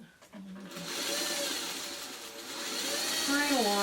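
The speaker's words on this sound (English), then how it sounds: "Flip this over and make my first sewing line." A sewing machine stitches a seam on a quilt pattern piece, a steady close whirring motor hum running through most of the stretch, with a voice speaking briefly over it near the end.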